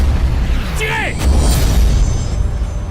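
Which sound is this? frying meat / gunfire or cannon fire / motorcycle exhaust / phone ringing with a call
gunfire or cannon fire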